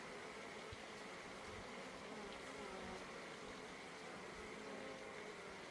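Honeybees flying around and returning to their hive in late winter, a steady, faint buzzing drone of many wings that hums evenly throughout with no voices.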